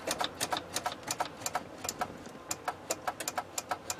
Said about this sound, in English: So I got some clicking going on down there in neutral.